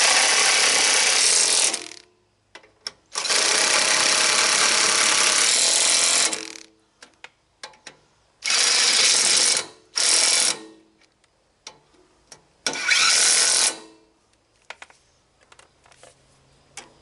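An old Sears rotospader engine catches and runs in loud, rough bursts a few seconds long that cut out and restart, sputtering between runs with small knocks and clicks, close by.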